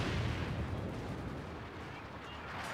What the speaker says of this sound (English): some nice artillery fire already going down on these Royal Engineers